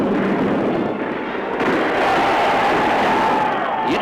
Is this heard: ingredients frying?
no